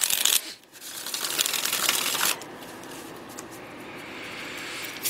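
Tarot cards are shuffled by hand, a loud crisp riffling burst at the start, then a longer papery flutter, followed by a quieter soft rustle of cards.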